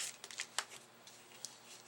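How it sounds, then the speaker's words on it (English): Scissors snip a small piece of cardstock for a handmade Christmas card: a few quick, crisp cuts close by, quiet, with no talking. "So I just want to snip a piece of the cardstock that I got right there"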